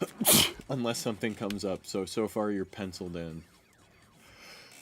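One sharp, loud sneeze bursts out right at the start, close to the listener, and a person talks steadily right after it.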